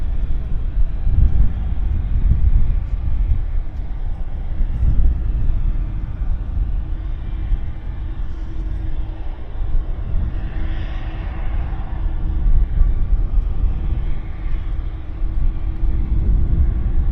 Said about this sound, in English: here comes an Air Canada departure